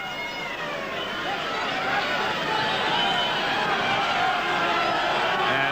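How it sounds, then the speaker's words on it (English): A large crowd at an Oldham versus Australia rugby league match sets up a broad, steady roar. It swells gradually into a dense wash of cheering that holds loud throughout and gives way to no clear talk. "The crowd are setting up a roar."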